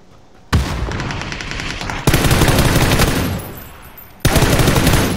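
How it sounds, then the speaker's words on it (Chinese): Loud, close automatic gunfire in PUBG comes in three sustained bursts of rapid shots, separated by sudden cut-offs and short pauses. "你听那个枪声啊"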